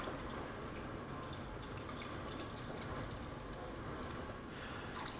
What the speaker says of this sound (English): And now we're going to add 2 cups of water.